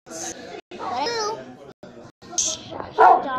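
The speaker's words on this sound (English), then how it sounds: "My doggies won't be quiet." Small pet dogs bark and whimper in short yappy bursts indoors while someone talks over and between them, with a louder sharp yelp near the end.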